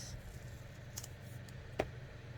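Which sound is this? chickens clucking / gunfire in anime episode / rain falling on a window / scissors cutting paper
scissors cutting paper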